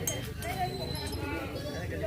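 Sheep and goats bleat amid a crowd of livestock at a veterinary camp in Chettipulam village panchayat, continuous overlapping animal calls under nearby talk and bustle.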